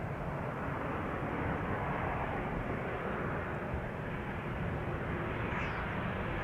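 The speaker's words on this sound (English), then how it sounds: "KLM 737 arriving from Copenhagen" A KLM Boeing 737 airliner arriving at Amsterdam Schiphol from Copenhagen gives a steady, faint, distant jet roar that holds evenly throughout without any voices.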